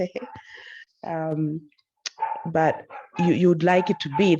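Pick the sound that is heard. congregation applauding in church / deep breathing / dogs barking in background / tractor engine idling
dogs barking in background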